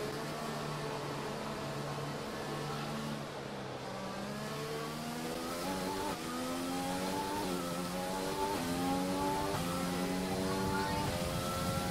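Race cars in an F1 video game scream down a straight, engine notes rising steadily as they accelerate, several overlapping whining tones sustained throughout.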